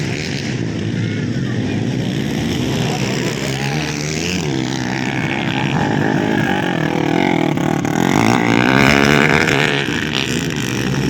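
Two-stroke-style engines from an underbone 4-valve racing motorcycle and a Kawasaki KLX 140 enduro race bar to bar in an open motocross category, revving loudly and continuously with rising and falling whine and crowd noise around.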